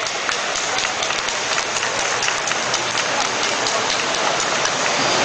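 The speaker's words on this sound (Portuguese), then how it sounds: "Palmas para o Asma, gente!" Crowd applause at the 2008 auto show launch of the Honda New Fit, a loud continuous hiss of many hands that sounds almost like heavy rain, steady and unbroken throughout.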